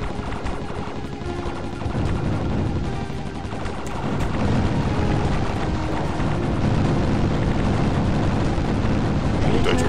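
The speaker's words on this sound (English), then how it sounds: "Lots of explosions." Dense, continuous booms and rapid gunfire-like blasts pile up loudly in the shooter game Tyrian 2000, with game-style explosions layered over a chaotic rumbling backdrop.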